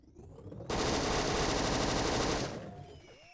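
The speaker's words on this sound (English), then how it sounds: "obviously the main difference at this point is the crazy ass machine gun" A pillbox machine gun in the video game Hogs of War rips off a sustained rapid burst of automatic fire lasting about two seconds, then cuts off abruptly into a faint tail, with no voices.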